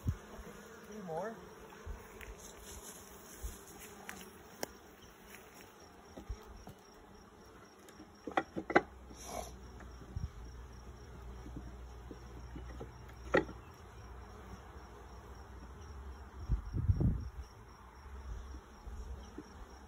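Honeybees buzz steadily around an open hive during an inspection, a continuous close drone that runs throughout, with occasional knocks and handling clicks of hive parts and brief low rumbles.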